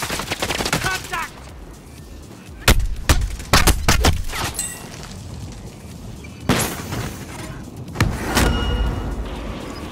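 Gunfire in Call of Duty Warzone on the Verdansk map: a rattling burst opens, then sharp close shots crack out in scattered clusters, loud and punchy against a quieter background.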